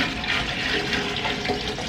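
A bowl of water poured into a tropical planted fish tank, a steady loud splashing gush lasting the whole moment, with no talking.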